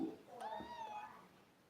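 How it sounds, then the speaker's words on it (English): A pet cat lets out a single drawn-out meow up close, with a brief voice at the very start. "Yeah, so that's my cat."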